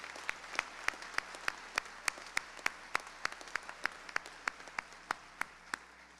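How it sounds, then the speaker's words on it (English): Sparse, quiet applause at a scholarship night: a few hands clapping in a fairly even rhythm, distinct sharp claps standing out over a soft background. "Let's give them one big round of applause before we kick off"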